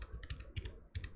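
Quick burst of computer keyboard typing, several close, crisp key clicks in an uneven rhythm, alone.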